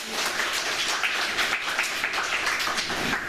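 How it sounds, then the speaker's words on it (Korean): A church congregation applauds during a Sunday service, a full, close round of many hands clapping continuously at a steady, lively level without any voices. "우리 박수 한번 해주세요."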